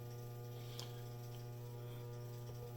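A Frigidaire Affinity clothes washer spins with a steady low motor hum, constant and fairly faint, no voices present.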